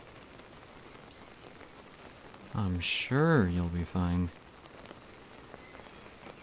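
Steady rain falls outdoors as a continuous soft hiss throughout, with someone speaking briefly over it in the middle.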